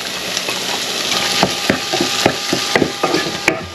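Crushed ginger and garlic sautéing in a pan, a steady close sizzle broken by a series of sharp stirring knocks against the pan.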